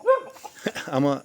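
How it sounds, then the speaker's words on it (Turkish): A small dog in someone's garden gives a short yelping bark at the start, followed by someone speaking and more faint yips mixed under his voice. "Bak bak nasıl havlıyor."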